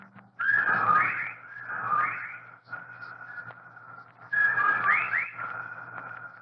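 Eerie whistling calls in a radio drama rise and fall in time with a dying man's breathing, coming in three swelling bursts with pauses between, over a faint low hum.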